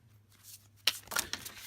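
A deck of tarot cards is shuffled by hand in a few soft, quick riffling bursts, faint and close, with a quiet room behind.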